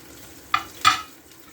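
A Sicilian pasta sauce of swordfish and aubergine, loosened with pasta cooking water, cooks in a pan as two brief, sharp stirring scrapes stand out over a quiet background.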